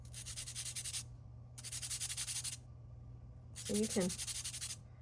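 A charcoal drawing pencil tip is sharpened on a sandpaper block in three rasping bursts of rubbing, each about a second long with short pauses between them; a voice speaks briefly over the last burst.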